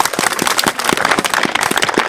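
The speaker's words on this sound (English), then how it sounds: "So give me a big round of applause." Applause from an audience at a commemorative ceremony for mothers and babies in Roscrea, a close burst of steady, crisp hand clapping that carries on evenly without voices.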